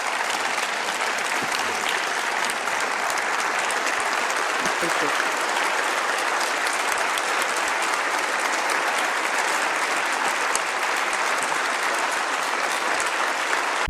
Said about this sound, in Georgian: სალომე ზურაბიშვილის სიტყვით გამოსვლას ევროპარლამენტში ტაში მოჰყვა